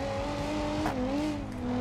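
A Nissan GT-R race car engine in BeamNG Drive revs loud and close, its droning pitch dipping and climbing again, with a brief squeal of tires partway through.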